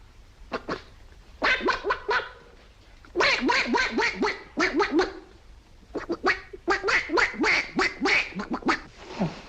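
A voice imitates a duck, a rapid series of nasal quacking calls in several bursts, loud and close, with brief pauses between groups.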